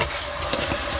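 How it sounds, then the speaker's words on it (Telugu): Turmeric dropped into hot oil while tempering mango pulihora sizzles and hisses steadily, close and continuous, with a brief stirring scrape partway through and no talking. "పసుపు కూడా వేసేద్దామండి, రెండు వేగిపోతాయి మనకి మంచిగా."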